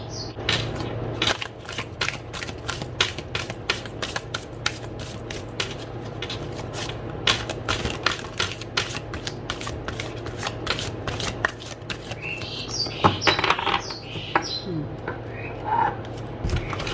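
Tarot cards being shuffled by hand make repeated crisp riffling snaps and soft slaps in quick bursts. They run close and clear for the whole stretch, with a few louder rustles near the end.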